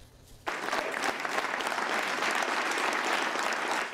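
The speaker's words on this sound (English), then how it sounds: "A round of applause for a man whose name will be immortalized among Philadelphia's most generous families. Early on, Gerry Lenfest was the architect o" Audience applause breaks out suddenly after a quiet moment and holds as a dense, loud, sustained clapping from a large crowd for several seconds.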